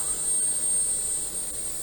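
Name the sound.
jet engine starting up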